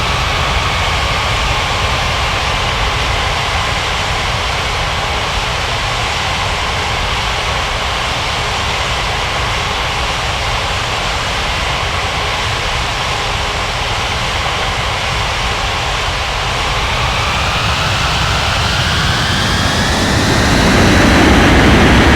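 A Eurowings airliner rolls for takeoff on runway 14 right at White Center Airport in a flight game, its jet engines a loud continuous roar that swells sharply in the final seconds.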